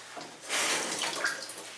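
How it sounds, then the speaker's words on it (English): Tap water runs onto a paper towel in a kitchen while pizza dough is being prepared, a soft, steady splashing hiss that swells after a brief start and holds for under two seconds. "I'll need some water on the paper towel."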